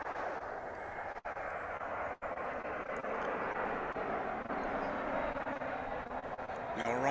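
A steady, broad roar of an American Airlines jet arriving at DFW airport on its landing approach, sustained and fairly distant throughout, with faint background noise.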